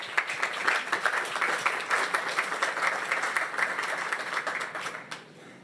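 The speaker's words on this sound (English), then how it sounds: "let's give everyone a big round of applause" A conference audience applauds speakers being called back onstage, dense steady clapping from many hands that holds for about five seconds, then fades out quickly at the end.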